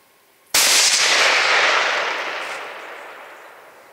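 A single sharp Krieghoff rifle shot cracks during a roe buck hunt in the Swedish countryside, a sudden loud report after a brief quiet that rolls off into a long fading echo.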